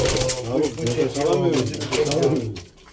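Pigeons kept by a breeder coo in a steady, close, overlapping murmur, with people talking alongside.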